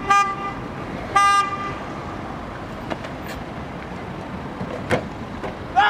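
Street traffic rumbles steadily while several short car horn toots sound, some near and some farther off.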